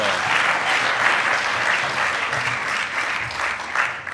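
A congregation audience at a synagogue talk by an Israeli ambassador breaks into loud, sustained applause, a dense wash of many hands clapping throughout.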